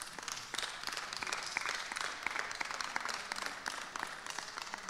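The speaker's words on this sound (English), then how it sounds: "Can we please give them a hard round of applause?" Spectators at a tournament applaud the helpers, a moderate, somewhat distant round of clapping with individual claps audible, continuing steadily for a few seconds.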